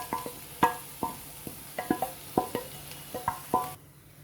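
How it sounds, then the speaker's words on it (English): Finely chopped capsicum, beans, carrots and potato in a pan are stirred with a utensil, giving a series of sharp clicks and scrapes against the metal over a faint sizzle, about a dozen strokes in an uneven rhythm. "Now I'm adding in all the other vegetables"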